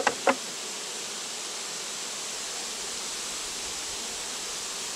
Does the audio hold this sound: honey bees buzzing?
yes